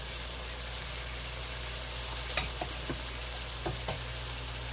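Shrimp, mushrooms and tortellini frying in a skillet give a steady low sizzle, broken by a few soft clicks and taps as the food shifts, with no voices.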